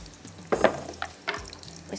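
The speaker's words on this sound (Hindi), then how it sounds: "प्याज हमारा इसको करेंगे अच्छी तरह से ब्राउन" Onions frying in a pan until brown for a tahiri and chicken liver dish, a low steady sizzle broken by a few louder stirring scrapes, close and without talk.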